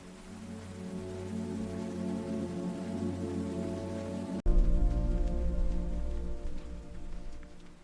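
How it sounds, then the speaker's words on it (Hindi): Steady rain pours down, a dense close hiss of drops hitting surfaces. It grows noticeably heavier and louder partway through, with no voices. "बारिश हो रही है"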